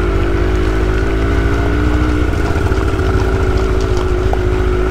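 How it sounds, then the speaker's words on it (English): A two-stroke minibike engine runs steadily and loud up close, a continuous buzzing drone that holds for the whole stretch with no talking. "All you guys hear is the two-stroke, but you see a Grom going down the road."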